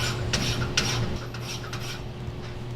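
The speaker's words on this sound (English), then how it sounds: "Take the file, lay it flat, so just a little bit, doesn't need to be a whole lot." A metal file is laid flat and drawn lightly across a part from a No Limit tilt hood kit, giving a steady close rasping scrape with a few sharper strokes, no voices.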